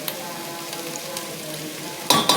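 Continuous crackling sizzle of garlic, ginger and green chili paste frying in a hot pan, with a sharp burst of louder spattering near the end.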